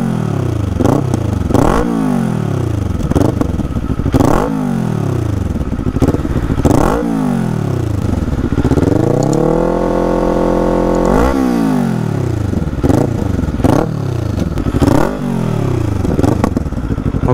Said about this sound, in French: vous faire écouter le bruit tout simplement de la moto